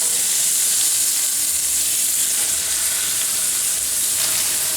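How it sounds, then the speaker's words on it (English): Leeks frying in melted, lightly browning butter in a pan with red pepper flakes, giving a steady, loud, close sizzle and hiss that fills the whole stretch without pause. "Now I'm going to throw in the leeks."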